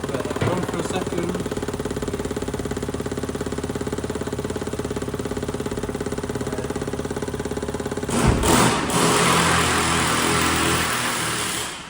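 An engine starts and settles into a steady, loud idle with a fast even pulse, then its tone shifts and roughens toward the end as it keeps running close by.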